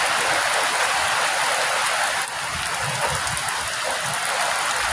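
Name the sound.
storm wind and rain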